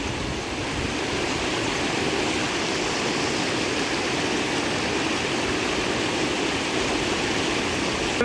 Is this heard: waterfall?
yes